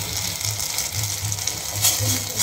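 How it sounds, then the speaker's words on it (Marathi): Mustard seeds spluttering in hot oil for a chutney tempering: a steady loud sizzle peppered with sharp crackles and pops, alone, with no talk. "इथे जाईल थोडीशी मोहरी, मोहरी चांगली तडकू द्यायची आहे"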